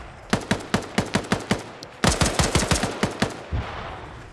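Rapid gunfire in a competitive shooter video game match, two bursts of evenly spaced sharp shots, loud and close, with a brief pause between them.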